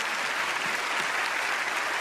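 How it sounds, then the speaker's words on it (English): A studio audience at a magic competition show applauds in a steady, dense clatter of clapping that fills the whole stretch, with no talk over it. "Give him a round of applause,"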